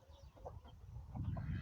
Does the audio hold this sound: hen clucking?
yes